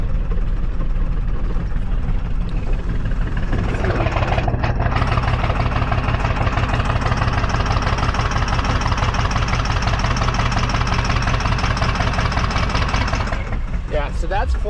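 An engine held at full throttle, likely a car's, roaring loud and steady for most of the stretch with a rough, knocking edge before easing off near the end.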